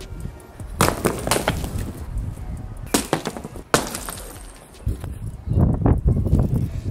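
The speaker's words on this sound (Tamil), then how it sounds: "சில்லு சில்லா ஐஸ் மட்டும்தான் நொறுங்குது, ஆனால் வாட்ச் பெருசாக எந்த டேமேஜும் இருக்க மாதிரி தெரில." Ice cracks and crumbles in bursts around an Amazfit T-Rex smartwatch, with sharp snapping crunches near the mic separated by brief pauses and a denser grinding crumble toward the end.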